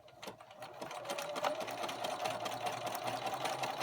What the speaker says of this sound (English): and then you want to stitch the opening closed, and I am going to use a zigzag stitch to stitch it closed.